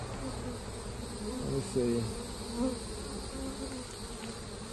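Bees buzz steadily from a swarm trap box packed with comb, a dense continuous hum with a few louder passes close by, while a person briefly speaks over it.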